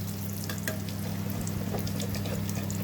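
Prawn balls fry in oil over a medium gas flame, giving a steady, close sizzle with faint crackles and occasional soft stirring taps throughout.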